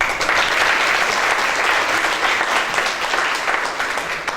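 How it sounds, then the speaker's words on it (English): Loud, dense applause fills the room from a community audience at a Somali youth and Boston police dialogue, steady clapping throughout that eases slightly near the end. "you deserve a round of applause"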